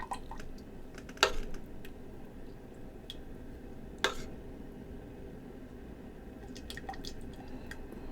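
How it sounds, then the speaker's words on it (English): A spoon stirs thickened homemade taco sauce in a cooking pot, giving a few sparse metallic clinks and soft wet drips over a quiet kitchen background, with no talking. "So I'm going to grab a spoon and I'm going to show you what the consistency is like right now."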